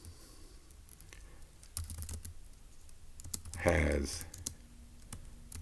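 Computer keyboard typing comes as scattered light clicks and short runs of keystrokes, close and quiet, with a voice talking briefly over them.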